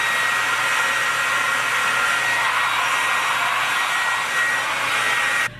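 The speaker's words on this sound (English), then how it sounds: "So right now I'm going to blow dry it." A hair dryer blows on hair in a loud, steady, close whoosh that runs unbroken for over five seconds, then cuts off abruptly at the end.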